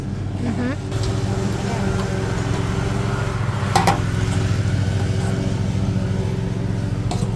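A Generator King 3.0 kVA gasoline generator runs steadily at idle with no load, a constant close engine drone with a brief clank partway through.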